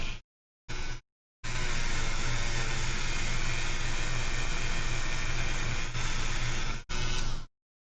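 A Dremel rotary tool spins at 5,000 RPM against a surface, giving a steady close whirring drone with a low hum, broken by brief starts and stops before settling into one long continuous run.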